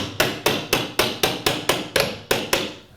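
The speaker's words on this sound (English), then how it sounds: "Just gonna hammer that in there" Ten sharp metal-on-metal hammer strikes driving a pry bar behind wall trim, in an even, steady rhythm, loud and close, with no talking.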